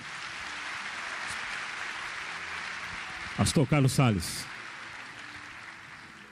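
A church congregation claps in a smooth, sustained wash of applause that carries on for a few seconds, then a voice speaks briefly over it before the clapping trails off.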